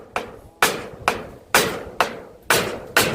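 Nails hammered on roofing work, seven sharp loud strikes in a steady rhythm about half a second apart, each ringing briefly before the next, close by.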